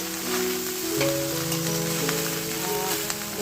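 Cashews and whole cinnamon sizzle as they are stirred in a hot pan, with rice then tipped in, giving a steady, close frying hiss with soft scraping and clinks and no talk.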